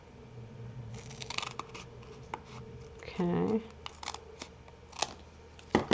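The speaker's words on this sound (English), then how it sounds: "we're going to go ahead and trim this foam to be the right size" Scissors trim a sheet of sticky adhesive foam for card-making: a handful of crisp, close snips and papery rustles, with a brief spoken word.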